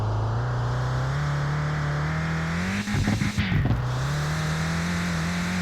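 Car engine droning steadily at full throttle in Mon Bazou, a sustained hum with a brief rough burst of revving and clatter midway before settling back to a constant roar.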